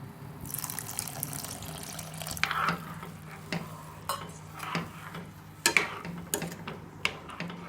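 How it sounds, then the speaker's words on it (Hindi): Water is poured into an egg curry gravy with yogurt mixed in, giving soft liquid sloshing in a pan along with scattered clinks and knocks of a utensil against metal, fairly quiet and close. "यहाँ पे हम ऐड करेंगे थोड़ा सा पानी इसमें"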